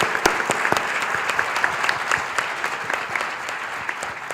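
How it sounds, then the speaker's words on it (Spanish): Conference audience at a tourism investment forum applauding in tribute, a moderately loud stretch of many hands clapping with distinct sharp claps standing out, steady and slightly tapering toward the end. "Y yo les pediría un aplauso para ellos en representación del resto"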